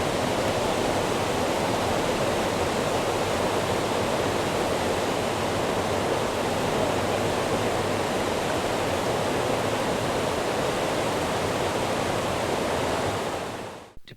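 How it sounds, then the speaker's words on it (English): Water moving fast across a wide stream in Ashtabula, Ohio, a dense unbroken roar like a small waterfall, loud and even throughout before cutting off at the end. "Sometimes the water was moving faster in a wider stream."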